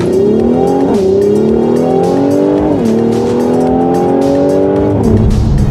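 A Mercedes-AMG C43 launching hard, its engine note climbing steadily through several upshifts, loud and close with a continuous roar and no talking.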